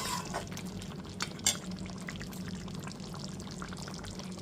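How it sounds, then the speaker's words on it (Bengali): Half a bowl of water poured into a pot of cooking Gondhoraj chicken, a soft brief splash with faint drips and a light clink, quiet and close. "এরপর এতে দিয়ে দিচ্ছি হাফ বাটি পরিমাণ জল"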